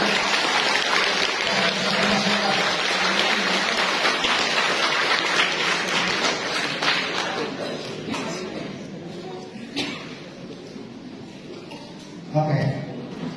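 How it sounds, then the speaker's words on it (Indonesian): Congregation at a thanksgiving Mass for a priest's 25th anniversary of ordination breaking into dense, sustained applause that gradually thins and fades, with a voice speaking over it near the end. "Mari kita berikan aplaus yang luar biasa."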